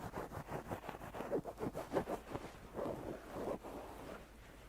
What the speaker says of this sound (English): Just focus your attention on the sound of the pillow.